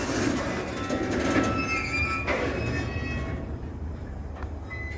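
An Australian freight train rolls through the Bluescope steelworks yard with a continuous rumble of wagons, wheel squeal and faint clanking. The sound stays loud and steady, then eases slightly toward the end.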